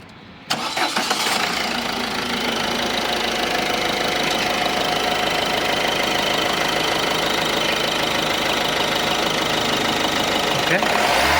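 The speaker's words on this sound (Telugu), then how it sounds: "ఒకసారి ఇంజిన్ అనేది స్టార్ట్ చేసి చూపిస్తాను." A 2016 Ford EcoSport Titanium+ car engine cranks briefly, catches and settles into a steady, loud idle that runs on evenly, heard close up.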